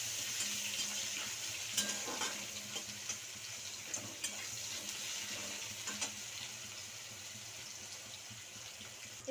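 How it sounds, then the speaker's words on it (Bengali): Chopped onions hit hot oil with cumin seeds and a dried chilli, giving a constant close sizzle and crackle with small scraping taps from stirring. "এবারে যে কেটে রাখা পেঁয়াজগুলো ছিল সেগুলো আমি তেলেতে দিয়ে দেবো।"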